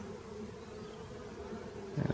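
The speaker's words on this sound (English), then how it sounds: "Bees crawling over my hands," Bees in a nuc hive during an inspection, a continuous close buzzing hum that swells briefly near the end.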